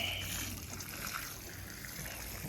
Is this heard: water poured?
yes